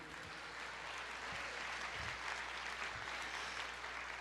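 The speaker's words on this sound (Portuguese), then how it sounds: "Você pode aplaudir o Senhor" Church congregation applauding during a sermon, a steady wash of many hands clapping at moderate distance with a low hum underneath and a few brief voices mixed in.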